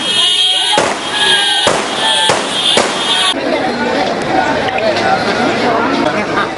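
Firecrackers set off by crowds celebrating a presidential election victory in Sri Lanka: a dense crackling burst of many rapid pops, loud and close, with a few heavier bangs, under a wash of outdoor noise and talk.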